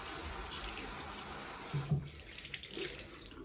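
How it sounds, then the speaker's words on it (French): Tap water runs steadily into a sink while a face is rinsed, a soft continuous splashing hiss with a few brief louder splashes near the middle, fairly close and with no talking. "On rince une dernière fois."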